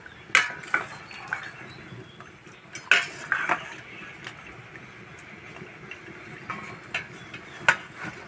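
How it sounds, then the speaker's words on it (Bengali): Boiled jackfruit seeds tipped into a metal strainer give scattered clattering knocks and clinks of utensils, a few sharp hits separated by quieter gaps, close and moderately loud. "এবারে এই বীজগুলো একটা ছাঁকনির মধ্যে তুলে নেব।"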